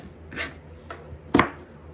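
Vegetables for dirty rice being chopped with a knife, two or three quick dull chops spaced apart on a cutting board, close and fairly clear with no talking.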